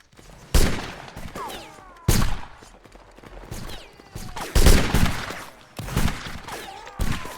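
Rifle volleys in a Napoleonic-era line-battle video game, firing the 95th Rifles: several loud, crashing bursts of massed musket fire at irregular intervals, with shots and fainter battle noise in between.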